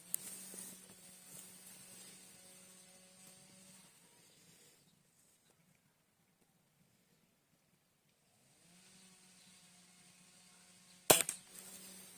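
A Shanghai B1 air rifle fires one sharp, close crack near the end, fired from a rest at a 10-meter target, after a long stretch of faint steady hum and near silence.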